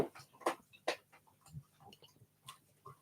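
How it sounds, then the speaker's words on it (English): A dog chomps on food under the table at someone's feet, giving irregular soft crunching clicks, near and fairly quiet, with no talk over them. "She's chomping."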